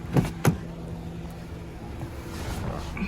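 A 2013 Honda City automatic being driven gives a quiet, muffled cabin hum after two brief thumps at the start, with the car's low rumble staying soft and steady.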